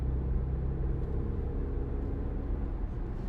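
A 2015 Audi Q5 2.0 TDI S line Plus quattro drives along a wet road, heard from inside the cabin as a low, steady engine and road rumble, fairly quiet and even throughout.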